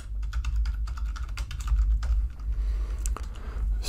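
A computer keyboard is typed on in quick, uneven bursts of close, crisp keystroke clicks, with brief pauses between flurries and no voices.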